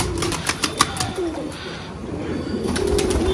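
A Kalduma pigeon in a flooded loft gives low, soft coos, with a few sharp knocks early on against a steady background of noise.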